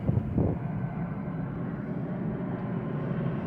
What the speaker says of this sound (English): You hear that plane going over, distraction.